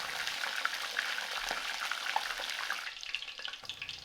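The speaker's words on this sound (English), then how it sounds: "The mushrooms were kind of scary, frying violently due to their moisture content." Mushrooms fry violently in hot oil for tempura, their moisture causing dense crackling and popping sizzle that continues throughout at moderate volume.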